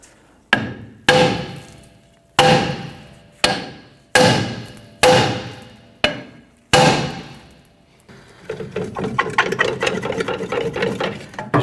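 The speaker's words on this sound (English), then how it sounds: "we're going to go ahead and use a hammer and we're going to strike around the edge of the drum to try and loosen this up." A hammer strikes around the edge of a stuck rear brake drum on a Chevrolet S-10, seven loud, ringing metallic blows spaced about a second apart, followed by a rapid run of lighter tapping.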